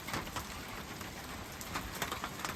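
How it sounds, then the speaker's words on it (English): Steady rain falls outdoors on a wooded ridge during winter trapping, a dense even hiss with scattered sharper drop taps, fairly close and continuous with no talk. "We're just waiting the rain out a little bit."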